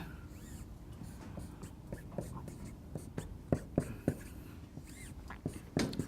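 Marker or chalk writing on a board during a math lesson on combining algebraic fractions: quiet scattered taps and scratchy strokes over faint room noise, with a few sharper clicks midway.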